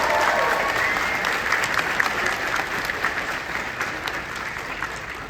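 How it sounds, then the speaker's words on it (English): Convention audience at an opening ceremony bursts into sustained applause, loud and dense from the start and tapering gently toward the end, with scattered crowd noise mixed in. "Give yourselves a round of applause for that."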